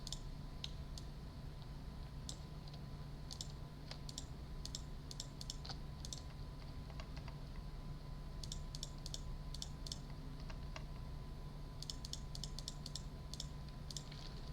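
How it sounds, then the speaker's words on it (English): Rapid typing on a computer keyboard while entering labels for a lighting console setup, heard as bursts of crisp close clicks over a steady hum, with no talking. "Let's go ahead and type store"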